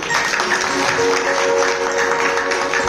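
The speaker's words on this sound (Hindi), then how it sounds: "तो एक बार बर्बरीक जी के लिए तालियां बजाइए।" Devotees at a Khatu Shyam religious discourse applaud Barbarik: a continuous wash of many hands clapping at moderate loudness, with a faint sustained musical tone underneath.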